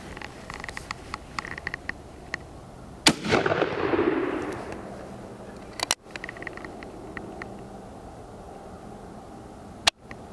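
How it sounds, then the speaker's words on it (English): Two sharp, loud shots from an Uberti replica Remington revolving carbine fired outdoors at a 100-yard steel target, the first followed by a rolling echo, the second several seconds later, with a third blast near the end. "We're going to give it some shots here though at the 100-yard steel target."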